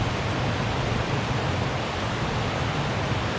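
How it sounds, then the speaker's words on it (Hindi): A waterfall beside a mountain road in Broghil Valley gives a steady, dense rushing roar. It stays even and unbroken throughout, with no voices. "फ्रेश होते हुए वाटरफॉल के पास बहुत ही प्यारी वाटरफॉल है"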